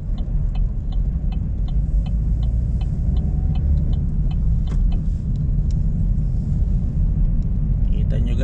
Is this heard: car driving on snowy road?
yes